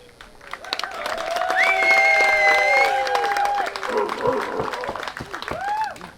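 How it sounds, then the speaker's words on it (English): Wedding guests cheer and clap for the newlyweds, a swelling mix of applause and whoops with a few tonal voices rising over the crowd. "I would like everybody to cheer"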